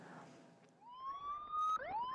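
A police motorcycle siren escorting an ambulance through city traffic on the way from Bucheon to Seoul, a faint wail rising in pitch and sweeping up again, heard from a distance over low traffic noise.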